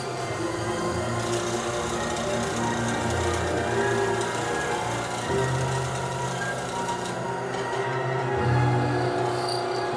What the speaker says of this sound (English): so I'm ready to cut the mortises now.